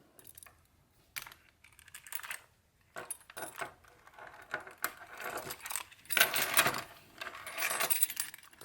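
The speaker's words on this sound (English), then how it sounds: "You can also hang a couple skeleton keys from right here if you want." Metal skeleton keys jangle and clink against a leather lock pick case in close, scattered bursts, with quiet gaps between rattles and a busier flurry near the end.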